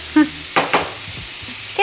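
Short bursts of sizzling as shrimp hit a hot pan, with brief clinks and a faint voice-like tone at the start and end.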